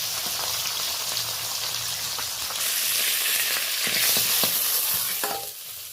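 Japanese puti fish from a home pond frying in oil in a wok, a steady loud sizzle with crackling pops throughout, rising slightly in the middle and easing off at the very end.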